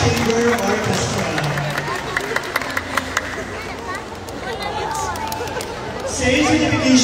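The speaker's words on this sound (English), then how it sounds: "A round of applause, please, to Ghana Chamber Orchestra." Applause for a chamber orchestra at a concert comes as irregular clapping amid a busy crowd with chatter and movement, moderately loud and swelling again toward the end.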